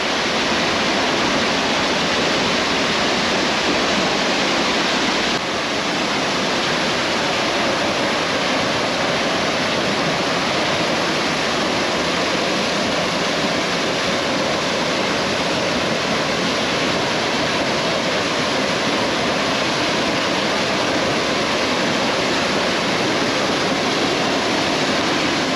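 A large Oregon waterfall roars with a steady, dense rush of falling water, loud and close, constant throughout with no voices.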